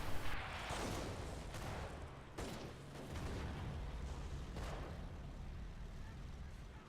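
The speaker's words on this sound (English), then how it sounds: "A lot of automatic submachine gun and assault rifle fire." Dense automatic submachine gun and assault rifle fire from a video game battle, a steady loud wash of overlapping bursts with a few sharper cracks.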